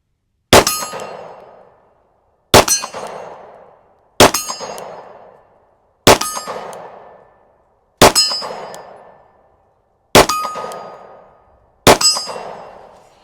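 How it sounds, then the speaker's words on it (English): Seven sharp metallic clangs from SIG P365 FUSE pistol shots striking a small steel gong outdoors, evenly spaced about two seconds apart, each ringing out and decaying, loud and alone with no talk. "Let's go to that smaller gong."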